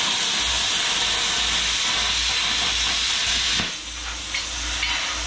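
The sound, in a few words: Bestarc BTC500DP plasma cutter cutting metal at 35 psi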